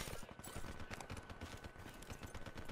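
Rapid bursts of gunfire in a PUBG match come in a dense, steady stream for the whole stretch, close and loud, with no talking over them.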